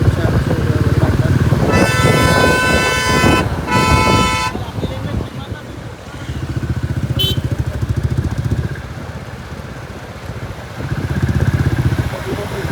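Car horns toot in loud repeated blasts at a car rally to D.B. Patil International Airport, over steady idling and rumbling engines from a packed line of vehicles, with people talking nearby.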